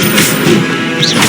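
Incendio fire spell cast in Hogwarts Legacy, a dense, loud burst of crackling flame and impact noise that fills the short moment continuously, with a brief whooshing rise near the end.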